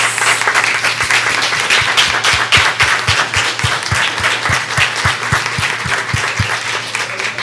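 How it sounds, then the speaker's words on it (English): A standing audience at a 2018 Child Month teen panel applauds, a dense, steady wash of many hands clapping for several seconds, with a few sharper claps cutting through and no talk over it. "let's do the graceful thing of standing and applauding them"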